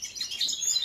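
Mutated goldfinches kept for breeding chirp in quick, bright bursts, a short stretch of high, busy twittering with no voices.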